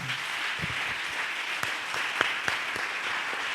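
A church congregation applauding, a dense steady patter of many hands clapping for several seconds with a few sharper individual claps standing out.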